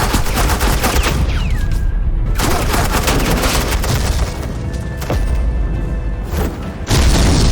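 Suppressing gunfire in a Batman: The Enemy Within scene: a loud, sustained barrage of automatic shots and booms. It drops out briefly near the two-second mark, then continues to the end.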